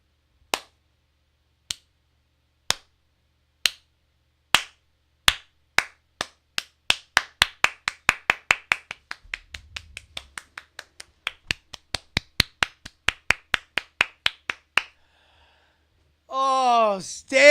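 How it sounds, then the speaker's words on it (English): A person does a standing belly clap, slapping their own belly in a sharp, close series of single smacks that starts slow and speeds into a rapid flurry before stopping. A voice follows at the end. "Oh, standing belly clap. Standing belly clap."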